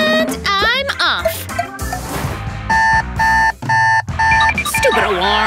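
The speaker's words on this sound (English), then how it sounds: "Stupid alarm!" An alarm clock rings in repeated loud electronic beeping bursts, mixed with cartoon crashes, squeaky effects and a voice.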